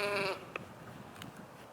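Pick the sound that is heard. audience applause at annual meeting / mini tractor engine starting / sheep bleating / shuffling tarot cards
sheep bleating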